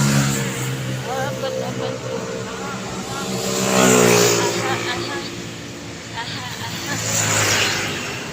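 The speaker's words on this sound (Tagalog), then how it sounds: "Ay, ang daming sasakyan." Heavy road traffic with many cars passing close by; engine noise swells and fades as vehicles go past, while people talk nearby.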